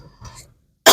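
A person gives one sharp, loud cough up close, bursting out abruptly after a moment of near silence.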